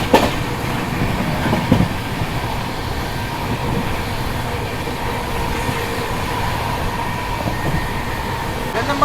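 Rajdhani Express no. 12302, New Delhi–Howrah, running at speed as heard from on board: a steady loud rumble of wheels and carriage with faint clickety-clack and occasional squeal, continuous throughout.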